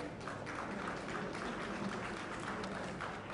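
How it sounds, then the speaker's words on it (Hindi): Steady, faint applause from an audience welcoming a guest onto the stage at a government technology conference inauguration, heard at a distance with a uniform, continuous wash of clapping. "तालियों से कृपया स्वागत करें"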